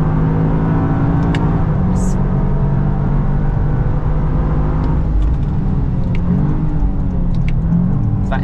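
Toyota GR Yaris automatic (2024) accelerating hard on a track, a steady loud engine drone with rising and shifting tones throughout, heard from inside the car with no talk.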